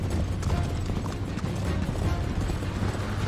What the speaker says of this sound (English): This horse is so slow.